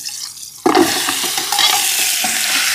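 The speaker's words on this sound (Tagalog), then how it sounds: "Sasangkutsa ko lang humuna to sa patis para mawala yung kanyang lansa." Meat hitting a hot oiled pan with fish sauce, a sudden loud sizzle that settles into steady close frying and hissing, alone without talk.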